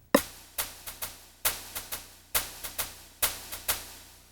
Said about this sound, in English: one of the sounds I have in the module is actually a hit and a swish